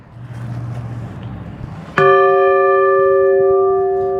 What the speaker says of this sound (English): so we rang the bell